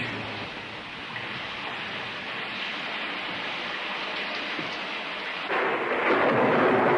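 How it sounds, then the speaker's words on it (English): Steady heavy rain pours down with a low rumble of thunder beneath it, swelling louder toward the end; no voices. "It starts to rain."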